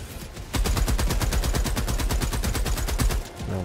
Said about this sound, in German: Aber Hauptsache der Mörser knallt ordentlich was um.